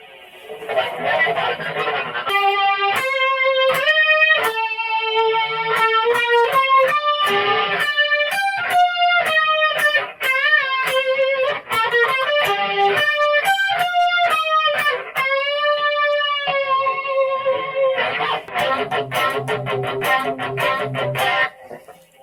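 Electric guitar run through an 80's Rockman unit with distortion, playing sustained bright overdriven notes and bends in a continuous melodic line, loud and close with no talking.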